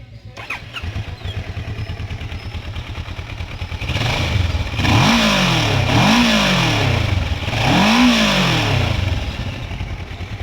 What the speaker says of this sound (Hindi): इस तरीके की आपने भाई मोटरसाइकिल की एग्जॉस्ट की साउंड मिलेगी।